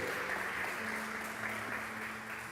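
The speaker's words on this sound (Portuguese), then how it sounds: "Você pode aplaudir a Ele nessa noite?" Congregation applause during an evening church service, a dense, even wash of clapping held at a moderate level throughout without a break.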